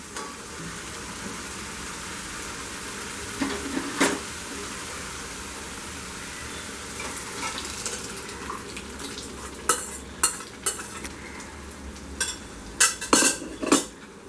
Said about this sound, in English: When it comes to a nice boil, we will add the lentils